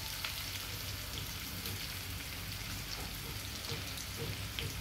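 Chopped onions frying in oil for chole masala give a steady, even hiss of sizzling that holds level throughout, fairly soft and without any voices.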